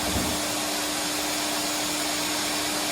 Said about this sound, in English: So I was vacuuming, but unfortunately the vacuum wasn't like really grabbing anything.